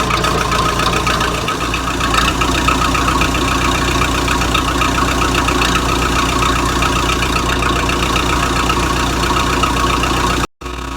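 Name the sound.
Case 450 crawler dozer engine running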